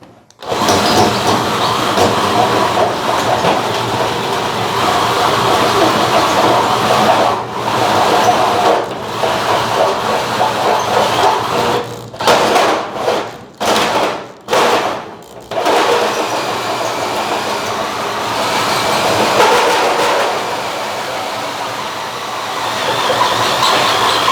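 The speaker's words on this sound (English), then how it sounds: "Just letting the teeth cut the metal." A saw cuts steadily through the body sheet metal of a 1940 Ford-inspired hardtop coupe while opening a custom gas filler hole, a loud continuous harsh rasp with a few brief stops near the end.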